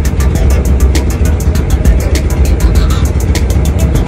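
A 1973 pastel pink automatic Volkswagen bus driving, with a loud, steady low engine drone and road rumble from inside the vehicle, broken by a faint, fast, regular ticking.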